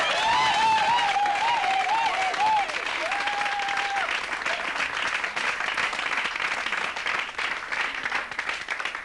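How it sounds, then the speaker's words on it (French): Applause from a church audience in Kinshasa, steady and dense throughout, with a sustained whistle or tone riding over the clapping early on. "Sous les applaudissements."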